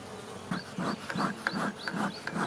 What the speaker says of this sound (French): On peut dire que tous les rayons quasiment sont pleins d'abeilles.